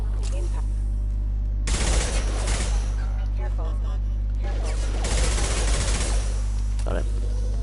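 Rapid gunfire in the sci-fi shooter Mass Effect 2 Legendary Edition, two loud close bursts of automatic shots separated by a few seconds, with a steady low hum and quieter game sounds between them.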